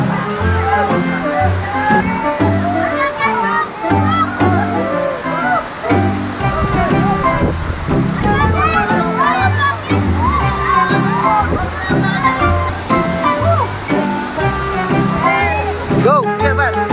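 Rushing water from Tago Falls in Porac, Pampanga roars loud and continuous close by, with sloshing and splashing as people talk and shout excitedly over it.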